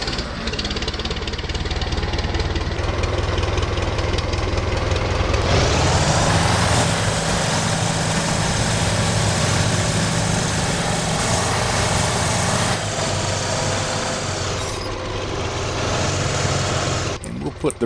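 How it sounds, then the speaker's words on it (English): Farmall tractor engine idling in Farming Simulator 17, a steady continuous mechanical drone that grows louder and fuller partway through and runs throughout at a constant close level. "Get this little old farm-all tractor here."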